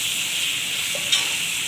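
Spices frying in a pot for chana pulao are stirred, giving a soft, steady sizzle with one brief clink of the spoon partway through.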